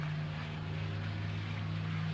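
Boat engine idling steadily in the military game Arma 3, a constant low droning hum with a buzzing tone, close and unbroken throughout, with no voices.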